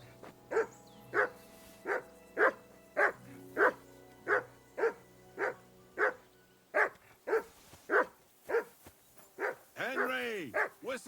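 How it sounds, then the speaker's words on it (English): A dog barks repeatedly in the medieval role-playing video game Kingdom Come Deliverance II, a long, evenly spaced run of sharp barks, with a voice briefly speaking near the end. "Henry, whistle at that mutt of yours to stop barking."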